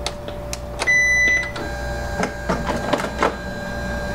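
A 2007 Canon Pixma MX310 printer powering up gives a run of close mechanical clicks, short motor whirs and a steady tonal hum, with carriage movements rising and falling over about four seconds and no talking.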